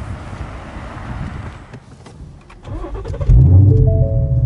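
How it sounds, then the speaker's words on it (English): A Ford Shelby GT350 running on E85 fires up from warm: a quiet whir gives way to a loud catch near the end, then a strong steady idle rumble with a tonal hum, close by and with no voices. "By the way, this is a warm start."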